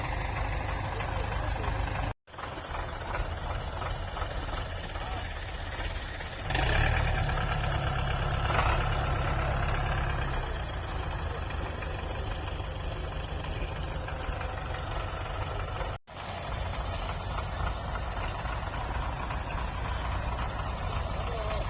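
A Belarus tractor engine labours steadily to pull a sugarcane trolley stuck in mud, a continuous loud diesel drone that surges under heavier load partway through, with brief cuts in the sound.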